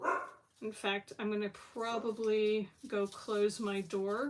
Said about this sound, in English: My dogs are going to go off.